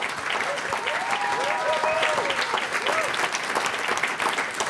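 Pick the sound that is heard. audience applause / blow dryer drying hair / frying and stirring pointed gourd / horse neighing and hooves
audience applause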